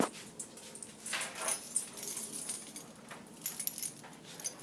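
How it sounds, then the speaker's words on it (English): A dog whimpers and yips near the microphone in a house, in short uneven bursts, while a light metallic jingle like tags or keys sounds around it. "There's my dog."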